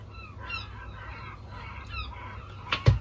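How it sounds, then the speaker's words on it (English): Several gull-like calls and squawks drift in from a distance over steady low traffic rumble, with a couple of louder knocks near the end. "Can you hear the seagulls?"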